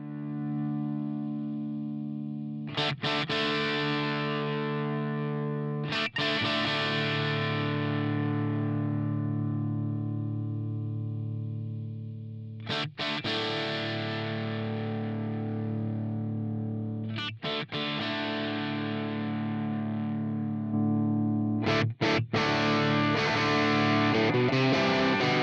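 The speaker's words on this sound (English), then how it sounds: "we're going to audition this Park amp and see if we can get a nice, rich and warm tone" Electric guitar run through the Park amp model on a Line 6 HX Stomp, playing loud, sustained chords with distortion and chorus, struck several times in slow succession with long ringing decays and a busier strummed passage at the end.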